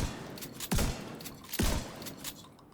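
Two heavy shotgun blasts in Destiny 2, evenly spaced and close, each with a sharp crack and booming low tail, over faint game ambience.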